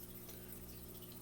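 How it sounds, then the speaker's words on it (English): Water pours into a fish tank, a continuous low gushing and bubbling rush that holds steady and faint for just over a second. "put water into this tank and then feed them"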